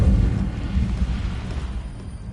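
A Hogwarts Legacy Incendio fire spell erupts with a loud, low whooshing burst that fades into a rumbling roar over about two seconds, with no talk.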